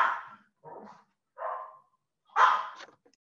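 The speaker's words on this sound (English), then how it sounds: "you just ignore the dogs" Dogs barking nearby in a short run of four separate barks with pauses between them, the last one the loudest, with no talking.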